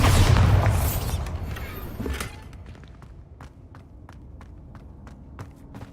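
A Bombarda spell explodes in Hogwarts Legacy: a loud, deep boom fills the first two seconds and rumbles away, followed by a string of sharp, evenly spaced thuds that sound like footsteps.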